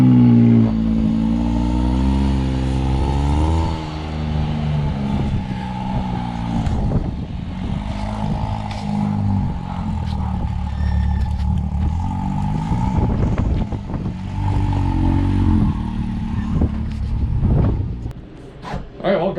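A Can-Am X3 XRC side-by-side with a cat-delete electronic cutout exhaust drives away and comes back on a snowy day, its loud engine droning and rising and falling steadily throughout, with some talk over it.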